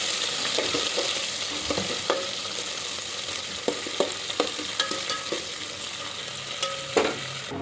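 Chili, curry leaves and coriander sputter in hot oil for a yogurt kadhi, a continuous close sizzle broken by repeated spoon scrapes and light metallic knocks, with no talking.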